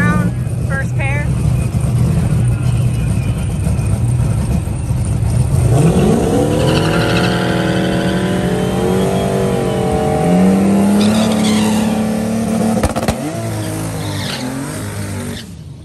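Small tire drag racing cars in a first round pair launching down the strip, engines revving hard and rising in pitch with tire noise, loud and close while a voice talks over them.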